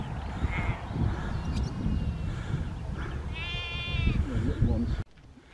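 A sheep bleats with a wavering, harmonic cry in Tideswell Dale, over steady outdoor rumble and some talking, fairly close, before the sound cuts off abruptly.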